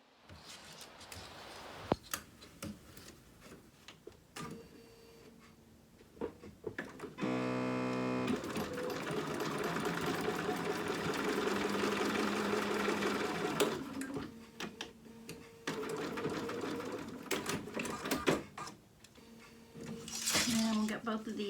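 A sewing machine stitches a short tack, basting shoulder pieces onto the bodice of a mouse-themed dog dress, running in steady whirring bursts between pauses while someone talks over it.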